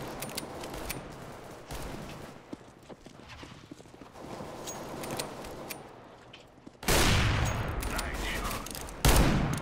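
Counter-Strike: Global Offensive gameplay with rapid gunfire bursts and in-game footstep clatter, loud close shots landing sharply near the end over a busy game background.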